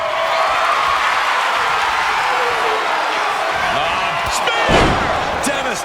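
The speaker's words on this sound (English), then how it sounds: "Spear. Devastating maneuver by the champion." Crowd roars loudly in an arena during a CCW World Heavyweight Title wrestling match between Bron Breakker and Jey Uso, with a heavy slam of a body hitting the mat from a spear tackle rising briefly out of the steady crowd noise.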